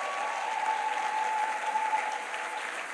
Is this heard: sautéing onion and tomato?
no